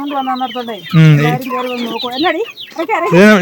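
A hen clucks and cackles close by in a rapid, uneven series of loud, throaty calls.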